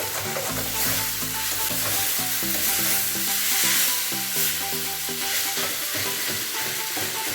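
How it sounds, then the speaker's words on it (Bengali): A spatula stirs a vegetable mixture with sugar in a pan for vegetable chop, giving a steady close scraping and stirring sound over a constant sizzle, with no talking. "এটাকে ভালো করে মিক্স করে নেব চিনিটা দিয়ে"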